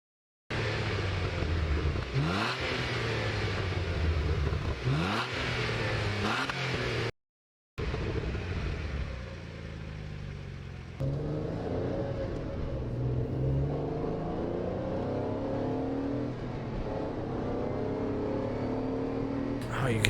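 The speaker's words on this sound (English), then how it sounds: "Oh, you can hear that transmission whine too." Renault Clio V6 engine revving repeatedly with rising and falling pitch sweeps, a whining transmission tone running underneath, a brief gap of silence, then steadier engine drone; voices talk over parts of it.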